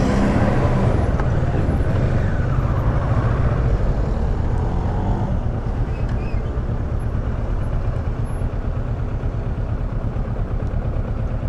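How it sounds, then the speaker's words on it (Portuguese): Busy intersection traffic heard from a Kawasaki Versys 650 ABS Tourer motorcycle, a dense, continuous roar of passing cars and engines close by, with steady road noise and no clear voices. "Olha a quantidade de carro que entra aqui."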